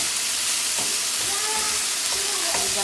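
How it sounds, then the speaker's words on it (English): Chicken stir fry sautéing in a pan, giving a loud, steady close-up sizzle that runs without a break for about three seconds. "I'm gonna saute this."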